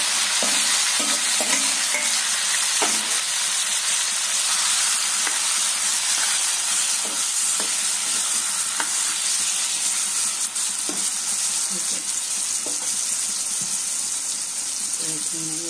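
Spice-marinated broiler chicken pieces frying in the oil left from frying potatoes, producing a loud, continuous close-up sizzle with occasional stirring scrapes throughout.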